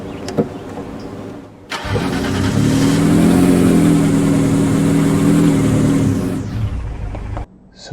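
A car engine starts in an Unreal Engine driveable vehicle demo, cranking briefly, then catching into a loud, steady idle with slight revving before cutting off abruptly near the end.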